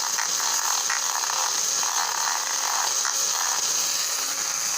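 A handheld Drill Master power drill whirs steadily while working on a Norfolk & Western model passenger car, a close, continuous high buzzing with faint rubbing texture and no pauses.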